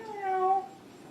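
A single cat meows once, drawn out and rising then falling, moderately close and fairly quiet, followed by faint room hush.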